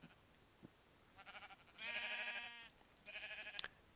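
Sheep bleat in the video game For the Empire, several wavering, tonal bleats in succession, moderately close against a quiet background hum, with no talking.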